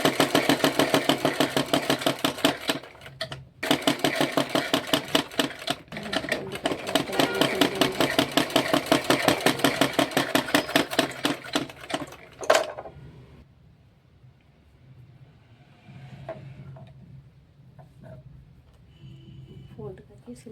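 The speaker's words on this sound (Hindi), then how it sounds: "तो हम इसको सिल देंगे।" Sewing machine stitching a belt blouse, running in a steady loud mechanical whir with rapid rhythmic needle strokes for about twelve seconds, briefly pausing once, then stopping to quieter handling noise and soft talk.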